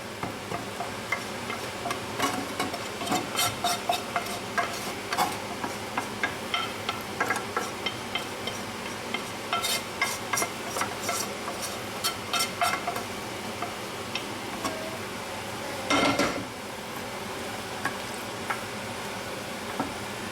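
Browned vegetables and bacon being stirred into a wild pork leg pot roast: a steady sizzle in the pot with repeated soft scraping and ticking strokes from a utensil, and no talk.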